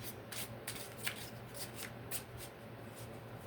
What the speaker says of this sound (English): we're going to shuffle it so we can lay it out as we go.